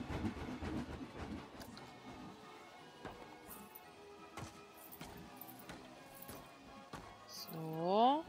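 A train in the Planet Coaster video game rolls by with scattered clacks and knocks over a low rumble, and a voice is briefly heard near the end.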